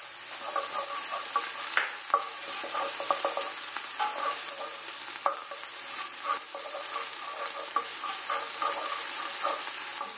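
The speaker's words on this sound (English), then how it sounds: "My onions are sauteing" Onions and six cloves of garlic sauté in butter in a soup pot, giving a steady close sizzle with small crackles and pops throughout and no talking.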